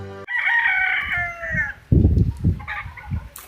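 A rooster crows loudly with a long drawn-out call, followed by several lower clucking bursts from chickens nearby.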